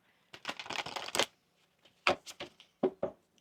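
Oracle and tarot cards are riffled and shuffled close up, a dense crisp flurry of flicking card edges followed after a pause by several separate slaps and snaps as the deck is squared.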